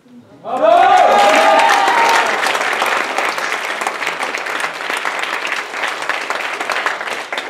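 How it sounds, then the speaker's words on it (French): Theatre audience at a final performance in Nice bursting into loud, sustained applause for the artists, a dense wash of clapping that swells quickly and holds steady, with a few voices rising over it early on. "vous avez bien applaudi tous ces gens qui sont dans la lumière, tous ces artistes"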